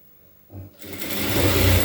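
A sewing machine starts up after a brief quiet and stitches folded blouse fabric, its motor rising into a fast, close, continuous whirr.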